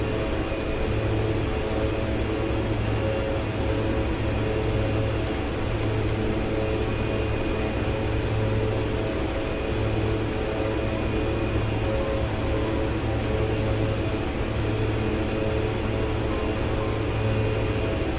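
Steady cockpit drone of an aircraft cruising in X-Plane 11 on a flight from Grand Bahama to North Perry Airport, Florida, a continuous loud engine hum with a low pulsing tone and no break.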